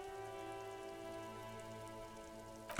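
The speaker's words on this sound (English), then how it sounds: "Rain thrumming on the roofs of motor vehicles" Rain thrumming on the roofs of motor vehicles stuck in a traffic jam in the video game Disco Elysium, a soft steady patter under a sustained musical drone, ending in a brief sharp burst.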